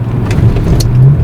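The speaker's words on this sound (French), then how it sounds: "on écrase la pédale et on est vite propulsé à des vitesses sympathiques" BMW 335i stage 1 tuned to 387 hp accelerating hard, a loud, close, steady engine roar with a low growl, alone and with no talk, over a short burst.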